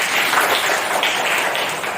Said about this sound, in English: Very good. Clap for Ashmain.